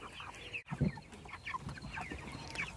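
Close, fairly loud clucking from a chicken or rooster comes in a few short calls, with faint outdoor background and no speech.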